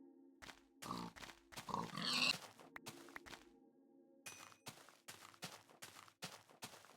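Pig grunts and oinks from the Minecraft video game, a series of short clipped bursts spread across several seconds, with some sharp hit sounds mixed in and a steady low background hum.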